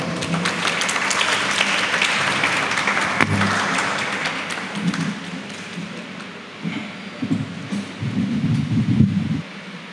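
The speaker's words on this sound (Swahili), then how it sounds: "Makofi tafadhali." A university audience applauds a mental health presenter, sustained clapping that thins and turns into scattered claps with a few thumps and shuffles toward the end.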